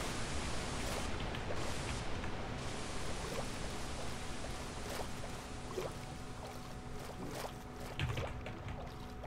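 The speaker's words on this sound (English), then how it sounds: "Gosh, the water is so loud." Steady, loud rushing water in the game RLCraft fills the whole clip, a broad continuous wash with a few faint clicks and splashes on top.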